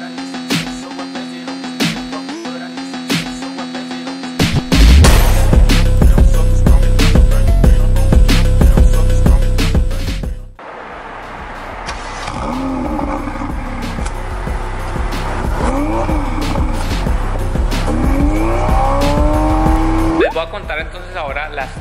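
A Ferrari 488 Spider fires up with a sudden loud roar that drops to a throbbing idle and is then blipped through rising revs. Quieter tonal sound comes first, and a few brief sharp sounds are near the end.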